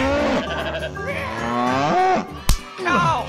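Cartoon cow in a 3D barn animation mooing loudly in long, drawn-out bellows that swell and slide in pitch, broken by a brief sharp thud midway, with no talking.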